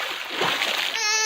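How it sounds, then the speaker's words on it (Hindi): A fish is tossed into water in a comic Hindi animated scene, giving a short splashing burst, followed by a brief tonal cartoon sound. "भाई जल्दी से मछली को पानी में फेंक दे।"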